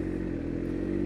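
Steady engine drone from a 2001 Triumph Speed Triple 955i motorcycle while riding, a constant low hum with no talk over it.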